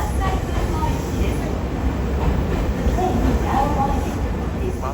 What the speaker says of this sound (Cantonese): ただいま到着の電車は空港急行関西空港行き